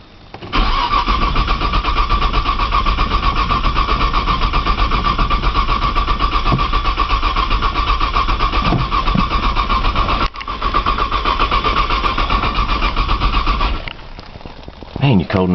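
A cold car engine is cranked without catching: a loud, continuous whirring starter drone goes on for about thirteen seconds with a brief break, then stops and rattles.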